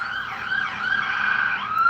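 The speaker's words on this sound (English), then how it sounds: "You guys hear those sirens?" Emergency vehicle sirens wail outside, a steady tone rising and falling at moderate distance, alone with no talk.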